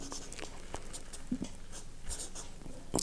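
Pen or pencil writing by hand on paper during a maths lesson, with scattered short scratchy strokes and taps, close and fairly quiet, with no speech over it.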